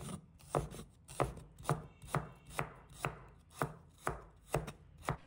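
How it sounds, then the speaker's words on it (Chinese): A knife chops shallots into small pieces on a cutting board, about a dozen evenly spaced, close, crisp strokes with no talking. "再准备几颗红葱头，"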